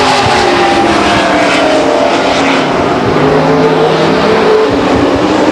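Stock cars roar through a turn at Stockton 99 Speedway, a dense, loud, continuous wall of engine noise from several cars at once with no speech over it.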